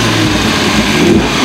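A Dodge Viper's 8.3-litre V10 engine revs steadily, a deep, loud, continuous roar that rises slightly toward the end, with no voices.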